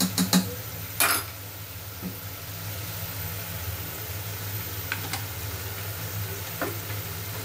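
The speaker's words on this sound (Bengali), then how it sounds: "এখন এই মশলাটা ভালো করে কষাবো" Masala spice mix stir-fried in a pan gives off a steady, close sizzling hiss, broken by a few sharp clinks of a spatula against the pan near the start and scattered later, with no voices.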